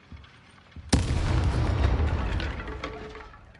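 An enemy blowing up in the video game Hogwarts Legacy: a sudden loud blast hits after a quiet start, then a rumbling, crackling roar that slowly fades over several seconds.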